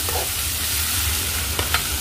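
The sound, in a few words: stirring onions and green chillies in a frying pan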